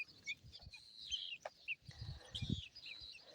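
Pigeons and pheasants grazing on fresh knotgrass in a village yard give soft, faint clucking and chattering calls, with quiet scattered notes and no talking.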